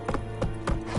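Hooves of Roach, the horse in The Witcher III, clip-clopping close by in a quick, even rhythm of about four strikes.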